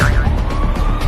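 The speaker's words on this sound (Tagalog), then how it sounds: "Paparating na yung ambulansya para dalhin kayo sa COVID facility." An ambulance siren wails loud and close, a steady rising and falling tone running through the whole moment with road noise beneath it.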